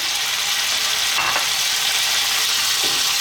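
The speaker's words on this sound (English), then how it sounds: "Let's fry this around. Just get a little bit of colour on it" Lamb, closer to tough mutton, frying in a hot pan for an Indian curry, with a steady loud sizzle throughout and a few scraping stirs of the meat, no voices.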